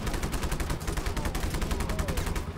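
Rapid bursts of Just Cause 3 video game gunfire fire in quick succession, loud and close, as a dense rattling volley with no pauses.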